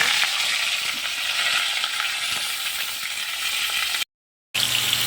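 Cut potatoes fry in hot oil in a home kitchen, giving a continuous bright crackling sizzle. It drops to a brief silence, then resumes.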